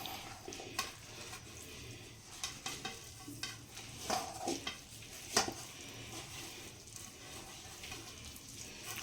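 Fish roe fritter batter being kneaded by hand in a bowl, giving soft, faint squelching and stirring noises that come and go irregularly, with a few small clicks in a quiet room.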